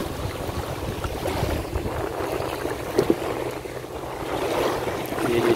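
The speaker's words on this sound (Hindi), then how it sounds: "तो जैसे बाहर निकले हैं तो अच्छी हवा चल रही है बाहर" Steady wind blowing outdoors in warm sun, a continuous rushing buffet across the microphone with brief gusts and a couple of thumps, no clear voices.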